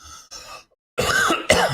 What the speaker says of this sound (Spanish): que tos horrible